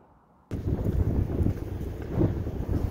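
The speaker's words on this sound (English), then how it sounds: "Yes, of course it's windy on the sawmill today." Wind gusting across the microphone at an outdoor sawmill, a loud rumbling buffet that starts abruptly after a quiet moment and keeps churning unevenly to the end.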